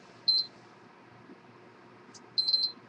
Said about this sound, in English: then it's going to go beep, and then it's going to beep twice